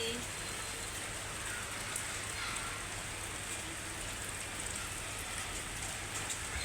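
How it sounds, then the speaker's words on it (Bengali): Steady rain falls outside, a dense, even hiss of drops on surfaces that carries on without a break from start to finish. "এই যে বাইরে অনেক সুন্দর বৃষ্টি"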